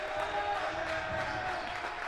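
Crowd noise fills a high school boys basketball game between Mount Lebanon and Central Catholic, a steady, loud roar of voices without clear breaks.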